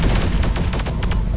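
Gunfire in the War Robots video game on PC: a short, loud, dense burst of rapid booming shots with heavy low rumble and no pauses.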